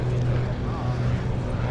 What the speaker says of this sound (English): That plane is landing right by our campground.